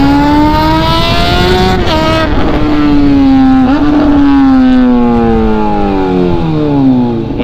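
A Honda CBR motorcycle engine revs hard while being ridden, close and loud, its pitch climbing and dipping through several throttle swells before winding down at the end.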